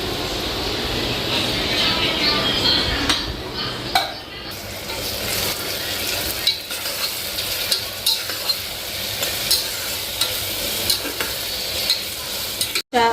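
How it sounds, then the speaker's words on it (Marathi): Ground garlic, coriander and green chili sizzling as they go into a frying pan of hot oil for masala rice, with steady crackling and stirring throughout and a few brief clinks of a spoon against the pan. "लसूण कोथंबीर आणि हिरवी मिरची दळलेली ती पण टाकते मी आता"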